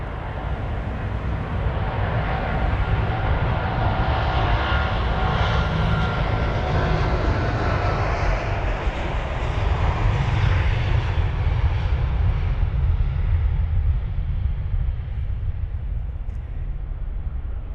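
An American Airlines Boeing 777-200ER bound for Dallas takes off from London Heathrow with a steady, loud roar that builds and swells near the middle, then slowly fades as the jet climbs away.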